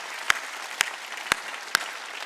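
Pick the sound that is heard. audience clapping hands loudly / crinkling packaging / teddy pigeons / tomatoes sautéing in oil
audience clapping hands loudly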